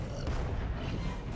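Deep, rumbling cannon blast from a crab cannon in the video game Alice: Madness Returns, a single heavy boom whose roar fills the whole short moment without talk.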